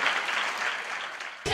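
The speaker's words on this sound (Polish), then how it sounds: "Gorące brawa, Igor i Marta." Studio audience of a dance competition show applauding after a tango, a dense wash of clapping over a voice, then cut off abruptly near the end.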